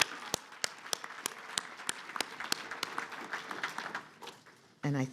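An audience claps for award winners at a ceremony. The claps are sparse and distinct, rising into a short round of applause, and a voice breaks in briefly at the end.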